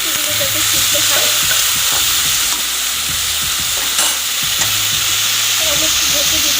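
Water poured into a pan of frying vegetables for a chapila fish curry spits into loud, close sizzling, with a spoon scraping and stirring in irregular strokes under a constant hiss.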